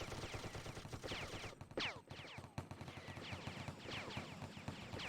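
Rapid, dense video-game gunfire in a competitive team match, sniper rifle included, crackles nonstop for five seconds with overlapping shots and streaking whistle-like tones, loud and close with no pause.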